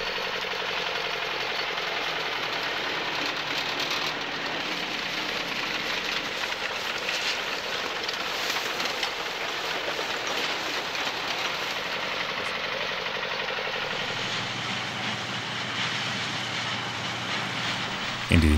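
A tractor engine drones steadily while pulling a grain binder through a harvest field, a loud, continuous rumble that holds unchanged throughout.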